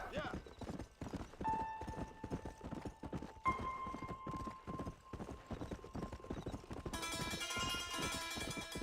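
Steady clip-clop of a horse's hooves as a rider travels at an even pace in Red Dead Redemption, close and rhythmic, with a sustained musical tone and a voice speaking over it.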